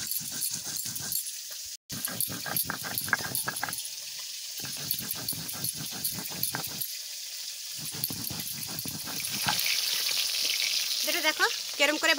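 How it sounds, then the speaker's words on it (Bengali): Sizzling frying in a pan while cooking a mustard hilsa fish masala with green chillies, a crackling sizzle broken by brief pauses, with a dog whimpering faintly and stirring near the end. "দেখো কেরম করে ভাজা করছি"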